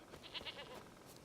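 A goat in The Witcher 3: Wild Hunt lets out a few short, quiet bleats over roughly a second, with a wavering nasal tone against faint game background.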